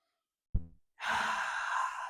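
A single deep breath drawn in during a breathing exercise, a short voiced sigh followed by a longer airy exhale heard close and alone.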